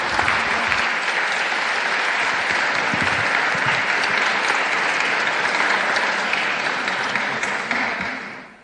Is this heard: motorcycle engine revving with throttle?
no